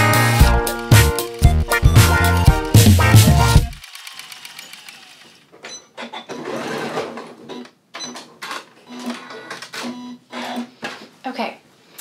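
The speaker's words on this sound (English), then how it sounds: "we're going to stitch all the way around so we can start anywhere we like" A sewing machine stitches around the elastic waistband casing of a Lou Box Dress, a dense run of rapid needle clatter at the start, then short intermittent bursts of stitching with pauses between them.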